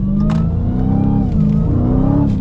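A Dodge Challenger Hellcat's supercharged engine revs at partial throttle, a loud, steady, close growl holding nearly level for a couple of seconds with no talking.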